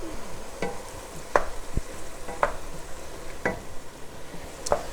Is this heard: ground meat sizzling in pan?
yes